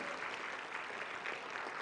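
An audience claps in sustained, dense applause at an evening session of the 2016 Global Humanitarian Summit; the clapping is steady and fairly loud, with no voices over it.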